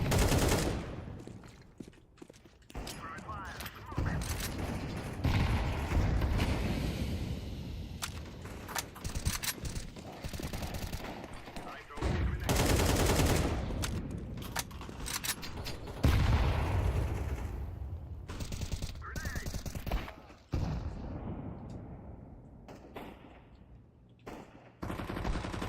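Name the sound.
AK rifle gunfire in a video game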